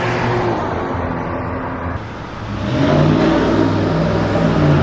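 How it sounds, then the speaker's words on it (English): A car engine revs in town traffic, a steady nearby motor hum that swells louder midway as the driver behind accelerates, with roadway noise around it. "that guy was revving up his engine behind me"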